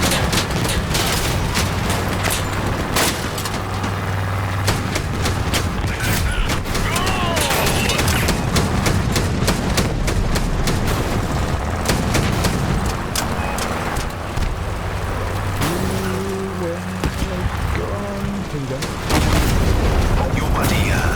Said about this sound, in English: Small arms fire.